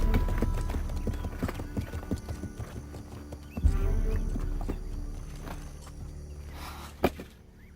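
Horses' hooves clip-clop in a steady, close rhythm over a low rumble, with a sharp thump midway and another near the end.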